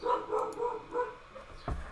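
Several household dogs barking in quick repeated bursts indoors, close and fairly loud, ending with a heavier low thump.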